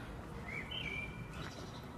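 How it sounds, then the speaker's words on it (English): Faint bird chirps rise briefly over steady outdoor ambience among the ruins of the Roman Forum in Rome, a couple of short high tweets heard at a distance. "Can you hear the birds?"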